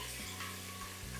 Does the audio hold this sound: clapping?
no